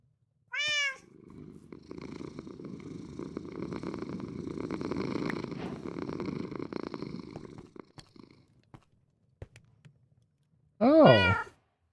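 A Minecraft cat lets out a short meow, then purrs in a soft, rumbling run for several seconds, and gives a second rising meow near the end, each sound close and alone.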